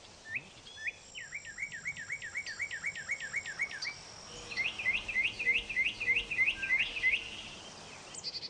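A mockingbird sings in a garden, repeating short rising phrases in quick series, one bout followed by a brighter, louder run of repeated notes, with faint insect chirps underneath.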